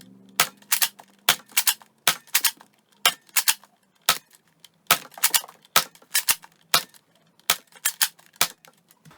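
A Nerf Rival Mercury blaster fires regular Rival foam rounds in a steady series of sharp, close snapping shots, roughly two or three per second with brief pauses, alone without talk.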